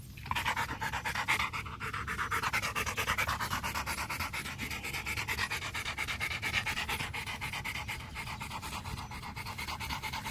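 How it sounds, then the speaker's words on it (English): A dog panting steadily and close by, quick rhythmic breaths repeating evenly throughout, with no talking. "Yes, he's a good dog."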